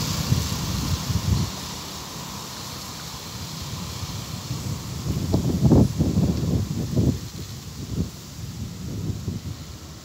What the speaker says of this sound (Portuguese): Olha só que vento maravilhoso!